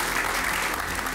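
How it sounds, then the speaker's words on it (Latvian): Audience applause for a quiz team named Saites Enerģija from the Riga region, a steady, dense wash of clapping that fills the moment without pause. "Vēlreiz aplausi Saites Enerģijai."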